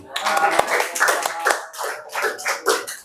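In a seventh-grade classroom, a group of students claps in loose, uneven bursts, the bright hand slaps rising and falling in clusters, fairly close and loud, with a few voices mixed in.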